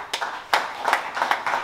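An audience at a church conference claps in acclaim, a brief burst of scattered hand claps at moderate distance, fairly faint, with a few sharp individual claps standing out.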